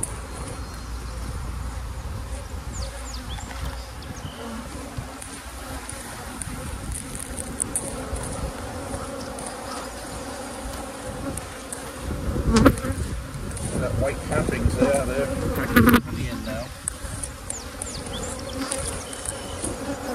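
Honey bees buzz densely and continuously around hives in a beekeeping yard, a steady close drone with a few louder passes and handling knocks partway through.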